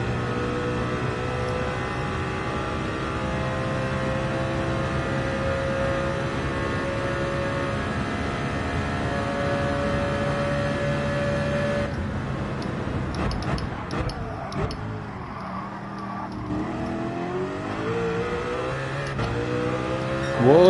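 A race car engine drones steadily at high revs in Gran Turismo 7, then breaks into rapid ticking and shifting revs that rise again near the end, loud and close throughout.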